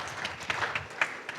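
Congregation applauding God during a church service, a short, moderately loud spatter of clapping with no voices over it.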